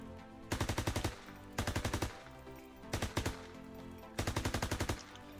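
MP40 submachine gun fired on a video game firing range: four loud automatic bursts of about half a second each, separated by short pauses, with no talking over them.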